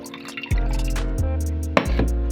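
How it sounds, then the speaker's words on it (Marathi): Water draining off washed urad dal, rice and mung beans in a steel pot, with brief splashy pours and drips over a steady low hum, close and fairly loud. "पाणी काढून घेते,"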